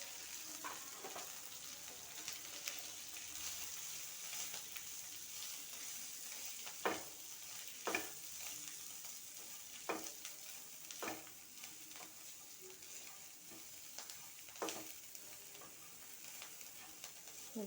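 Coriander frying in a pan with garam masala, turmeric, chilli powder and sesame, a steady sizzle broken by sharp scraping stirs of a spoon every second or two, close and alone.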